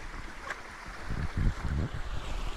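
Creek water splashing and churning as someone wades across on foot along the West Prong Trail in autumn, a few close, heavy sloshes over a steady background rush of flowing water.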